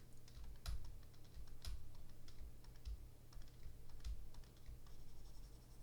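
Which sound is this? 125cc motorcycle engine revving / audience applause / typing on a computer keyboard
typing on a computer keyboard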